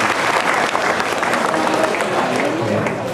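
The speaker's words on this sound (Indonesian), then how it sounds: "Tepuk tangan buat camat sing baik." An audience at an arts and culture event bursts into dense, sustained applause, with a crowd murmur underneath.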